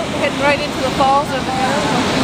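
Niagara Falls roars as a broad, steady wash of falling water near a tour boat, with voices talking faintly over the continuous rush.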